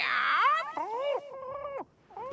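A voice imitates a cat's meow as an emergency signal in a French cartoon, one drawn-out whining miaow followed by shorter wavering meows, close and clear with no other talk.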